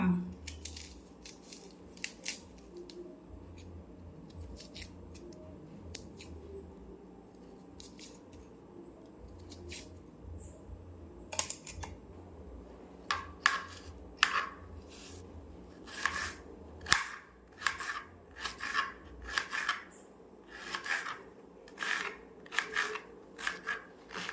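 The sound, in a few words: knife chopping onions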